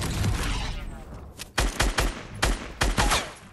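Rapid bursts of gunfire in a squad shooter video game, several loud sharp volleys in quick succession after a brief lull, with faint voices beneath.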